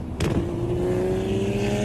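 Toyota Supra with a loud aftermarket exhaust, a sharp crack then a sustained droning engine tone that holds steady and loud, close by, with no talk.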